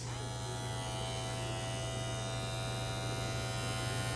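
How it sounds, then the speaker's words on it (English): A Caliber 357 Magnum Gen 3 hair clipper runs continuously with a steady, fairly quiet electric buzz and hum, close by, with no talking. "All right, we got a nice little build clipper. All right, caliber 357 mag,"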